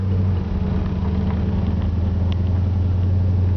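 A restored 1964 Ford Galaxie drives along with all its windows down, its engine holding a steady, loud low rumble mixed with wind noise, and no distinct shift stands out.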